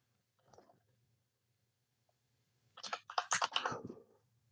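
Burst of rapid keystrokes on a computer keyboard wired to an Amiga 500 with a PiStorm upgrade, clattering close and fairly loud for about a second and a half after a short faint tap, with no talk over it.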